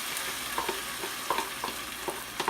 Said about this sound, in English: Just mix it in and put it in the onion.